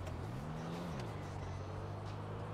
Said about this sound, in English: This car sound is a little bit lower than usual